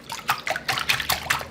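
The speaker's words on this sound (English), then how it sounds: "Now I'm going to pour the mixture" Bread pudding custard mixture is poured over bread in a dish, giving short wet splashes and trickling glugs in a quick irregular series, close and fairly quiet.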